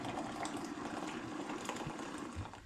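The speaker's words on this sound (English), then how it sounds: "I'm going to add 200 ml of boiling water into here, which will dissolve the brew sugar" Boiling water is poured into a container of brew sugar for home-brew cider, giving a soft, steady gurgling splash with a faint trickle, fairly quiet and continuous, no voices.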